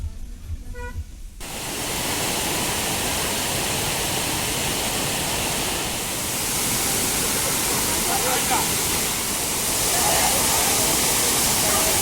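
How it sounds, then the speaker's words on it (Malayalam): Achchankallu waterfall at Konnakkad in Kasaragod, a dense, loud, continuous roar of falling water that takes over after a short opening of quieter ambience and voices and stays steady to the end. "വെള്ളച്ചാട്ടം"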